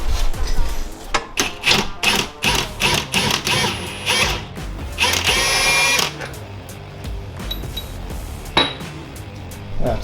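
A wrench works on the differential bolts of a rear differential being installed on a GR86, giving sharp metallic clinks and ratcheting bursts in irregular clusters, close and fairly loud.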